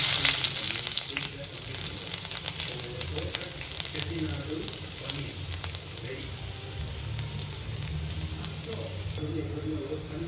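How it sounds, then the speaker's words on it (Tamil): Chopped garlic fries in hot oil in a kadai for a paneer Chettinad gravy, crackling and sizzling in a loud, even, rain-like hiss that eases slightly after the first second. "கடாயை ஆன் பண்ணி எண்ணெய் ஊற்றிட்டு பூண்டை வந்து குட்டி குட்டியாக கட் பண்ணி ஆட் பண்ணிக்கலாம்"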